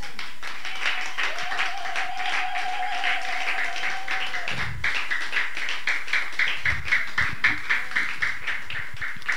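A church congregation claps together, building from scattered taps into steady rhythmic applause over a sustained tone, moderately loud and close, with no clear talking over it.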